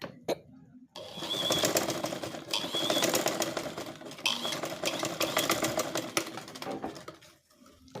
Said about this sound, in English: just keep it down like this and I will sew it to connect